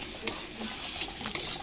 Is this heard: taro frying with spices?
yes